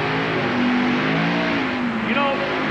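Monster truck engines roar and rev loudly during a 1990 TNT Monster Truck Challenge race in West Lebanon, a sustained, dense engine drone with a rising pitch sweep near the end, under an announcer's voice.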